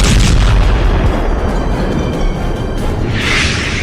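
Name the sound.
drone strike explosions in war footage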